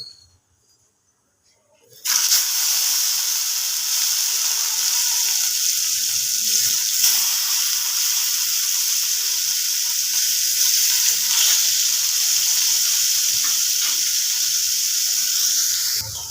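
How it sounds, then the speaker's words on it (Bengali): Fish frying in hot oil in a frying pan on a gas stove for a light Bengali fish curry, a steady loud sizzle and crackle that starts abruptly after two seconds of near silence and continues unbroken to the end. "এবার এদিকে তেলটা গরম হয়ে গেছে মাছগুলোকে ভেজে নেব"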